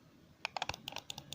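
Computer keyboard keys tapped in a quick, uneven run of about a dozen light clicks, quiet and close, with no talking.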